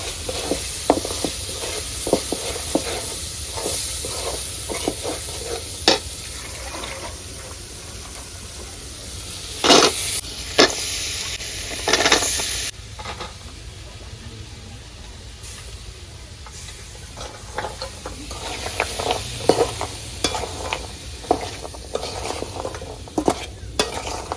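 Prawn curry with vegetables is stirred and sautéed in a pan on a village kitchen stove: steady frying hiss broken by a scatter of loud scraping spoon strokes and clanks, one prolonged bright scrape near the middle.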